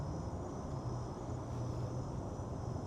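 Night insects such as crickets chirp steadily around outdoor lights, a dense continuous buzz with a faint low drone under it and no talk.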